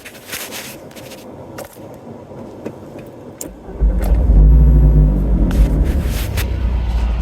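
A few clicks and faint taps, then a Toyota Yaris engine turns over and settles into a loud, steady low rumble that continues to the end.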